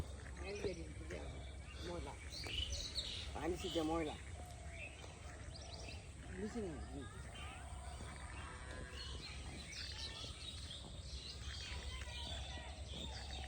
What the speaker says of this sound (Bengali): চারিদিকে নিস্তব্ধতা, পাখির কলকাকলি